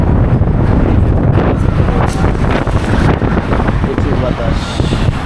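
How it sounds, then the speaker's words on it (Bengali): Strong wind buffets the microphone at a seaside park in Baku, Azerbaijan, a loud continuous roar with gusty rumble filling the whole stretch. "প্রচুর বাতাস।"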